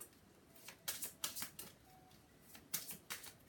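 Tarot cards are shuffled by hand in a quiet room, giving faint soft riffling and slapping bursts in an uneven rhythm, close by and with no voices.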